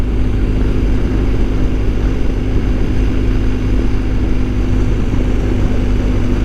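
A BMW R 1250 GS Adventure motorcycle out on an early-morning ride, its engine drone blending with a steady rush of wind noise, continuous and loud throughout with no talking.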